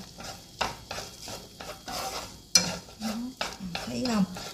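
Sesbania flowers and tiny shrimp are stir-fried in a pan, with rhythmic scraping stirs over a soft sizzle, one sharp clink of utensil on pan midway, close by.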